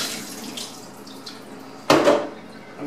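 Tap water runs steadily into a sink while photographic film is washed in a darkroom, with a brief louder gush of splashing near the end before it settles back to a constant flow.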